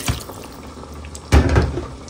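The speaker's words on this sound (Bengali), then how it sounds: "অনেকক্ষণ কষানোর পরে অল্প একটু পানি দিচ্ছি" A small amount of water is poured into chicken bhuna after long frying, a short splashing pour starting partway through, loud and close over quiet kitchen background.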